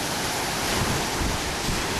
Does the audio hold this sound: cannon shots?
no